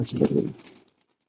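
A pigeon's low, soft coo on a rooftop, close by, fading out within a second.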